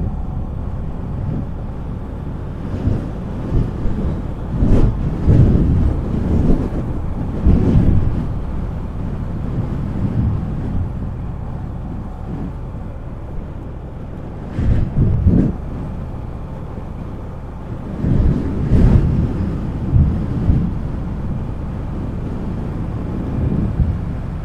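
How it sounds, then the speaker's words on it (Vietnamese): Strong gusty wind blows on a coastal mountain pass road at Cà Ná, Ninh Thuận, as a loud, continuous low rumble buffeting the microphone, with surges rising and falling throughout and no voices. "Gió cũng khá là to"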